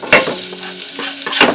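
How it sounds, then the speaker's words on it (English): Scallions go into a pan of couscous, bringing a loud, close sizzle and a stirring scrape that rises, dips briefly, then flares again, with no voices. "over here for my couscous, I am going to add my scallions."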